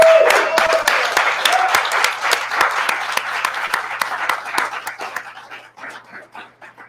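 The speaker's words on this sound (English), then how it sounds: "Can we give a huge round of applause for our video crew?" Applause from a storytelling fundraiser audience at a cafe, a crowd clapping in a fairly close, lively burst that thins out to a few scattered claps.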